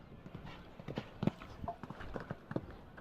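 Horse hooves clip-clopping on the ground during a 1.45 m CSI4* show jumping round, a steady rhythm of close, distinct thuds with a faint background crowd.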